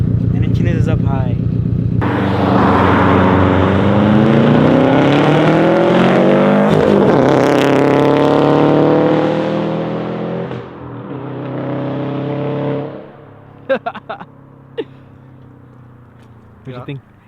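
A Subaru STI fitted with an Invidia G200 exhaust revs hard and roars past up close, loud and sustained, then fades as it moves away, followed by a few sharp pops and brief talk.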